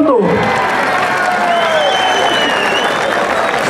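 A crowd applauds loudly and continuously at a Mexican bull-riding event, with some cheering mixed into the clapping.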